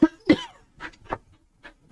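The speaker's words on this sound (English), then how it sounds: "I'm going to cough." A person coughs indoors near a microphone, two sharp coughs in quick succession followed by a few softer throaty bursts, isolated against silence.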